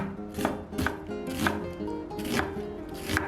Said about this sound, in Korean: 양파 반 개 채 썰기